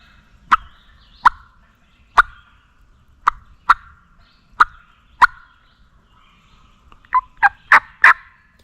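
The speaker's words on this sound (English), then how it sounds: "they're still on the ground, which is going to make that gobble sound a little bit quieter" Wild turkeys gobble from the ground during a spring hunt, about seven separate calls spaced out at uneven intervals, followed by a quick burst of four near the end, moderately distant against a quiet background.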